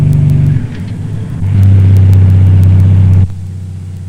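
A truck's Jake engine brake rumbles loudly in a deep, pulsing drone that drops off, surges back stronger for a couple of seconds, then cuts sharply to a lower engine hum.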